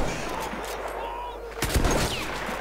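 Gunfire in the World War I shooter Battlefield 1, set in the Gallipoli campaign: a couple of loud, close sharp shots cut in after a stretch of quieter battlefield noise.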